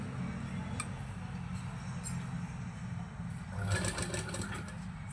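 A sewing machine runs steadily while stitching a baby frock, a continuous whirring hum with a brief louder, brighter burst near the end.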